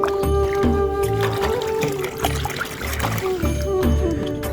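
A freshly caught small river fish, pulled from a muddy hole on a riverbank, is rinsed in water by hand, giving loud close splashing, pouring and trickling in repeated bursts.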